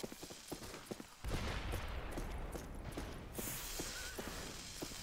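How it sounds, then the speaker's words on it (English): Rapid gunfire from the Western shooter game Fistful of Frags, a sustained crackle of shots and mechanical clicks over a dense, noisy battle background. "someone's shooting me"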